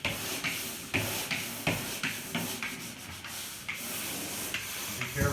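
A pole sander rubs across a bedroom wall in steady rhythmic strokes, each pass a soft gritty scrape, repeating roughly every half second and quiet with no talk.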